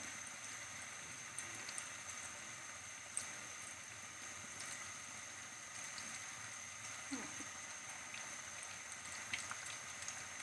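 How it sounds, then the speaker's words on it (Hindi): Chicken cheese croquettes fry in hot oil, giving a steady, soft, continuous sizzle and bubbling hiss with a few faint pops, fairly quiet throughout. "अब इसी तरह दोनों साइड से इनको फ्राई कर लें"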